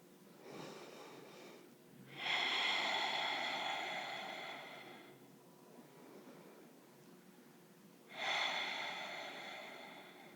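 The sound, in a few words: slow deep breathing during yoga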